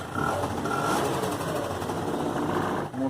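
A Honda Dio AF27 scooter engine runs steadily and close, a busy rattling, buzzing mechanical drone with odd irregular knocking noises, cutting off briefly near the end.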